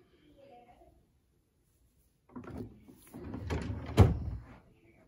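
Dresser drawer sliding and bumping shut in a home, a short rumbling scrape building to a sharp knock near the end, after a brief stretch of quiet with faint talk at the start.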